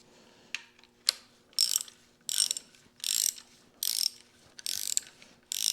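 Metal parts clank and scrape in short repeated bursts, close and fairly loud, with quiet gaps between them, as an idler gear is fitted into a Farmall Super M engine.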